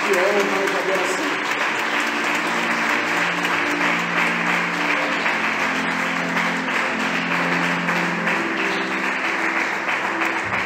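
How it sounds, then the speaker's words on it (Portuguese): Church congregation applauds the Lord during a Portuguese-language sermon, sustained clapping blended with voices and a tonal musical hum underneath, steady and fairly loud throughout. "Aplauda ao Senhor"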